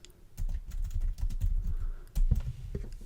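Rapid clicks of a computer keyboard as a topic is typed into a search field, a dense, close run of keystrokes with brief pauses and a louder burst near the end.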